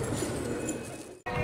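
A flock of about 200 fighting pigeons is released, giving a dense, steady mass of cooing and rustling close by. It cuts out for a brief instant near the end, then carries on.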